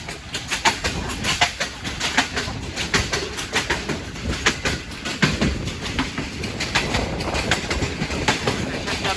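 Hazara Express passenger train running over the rails between Lala Musa Junction and Phularwan, with a loud, steady rhythmic clickety-clack of wheels on track joints throughout and faint birds chirping in the background.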